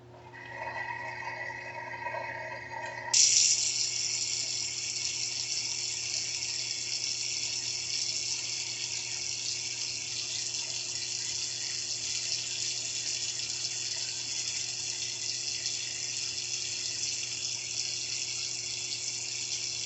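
Coolant pours from a gallon jug through an opened ball valve into a small-block Ford V8. A faint trickle turns into a steady, louder rushing flow after a few seconds and keeps on without talk.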